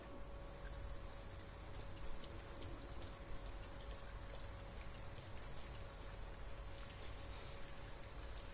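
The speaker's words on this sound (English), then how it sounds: "At least we'd be out of the rain" Steady rain falls in Detroit: Become Human, a faint, even hiss of drops on surfaces that continues without a break and with nobody speaking.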